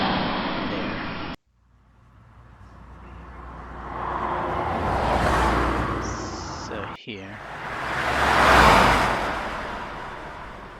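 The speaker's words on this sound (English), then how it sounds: "it's generating a sound effect for car" AI-generated car sound effect from ElevenLabs: loud swelling engine roars that rise and fade twice, with a brief silent gap early on, and a short stretch of speech at the start.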